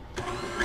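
An electric mixer whirs into condensed milk, whipped cream and gelatin for a no-bake Dutch pie filling, starting abruptly and running as a steady, close motor hum with a slight rise at the end.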